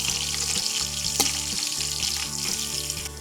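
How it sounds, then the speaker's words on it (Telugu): Onions and green chillies fry in a pan for crab biryani, producing a loud, dense, continuous sizzle close by over a steady low hum, with one brief clink and no speech. "ఈ ఆనియన్స్ గోల్డ్ కలర్లోకి వచ్చేదాకా వేగనివ్వాలి."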